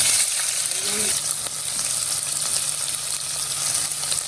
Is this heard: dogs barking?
no